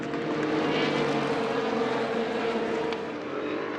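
Racing cars, including a Ligier prototype, roaring past on track during the 4 Hours of Portimão endurance race, a steady loud engine drone sustained throughout with a slight swell as cars go by.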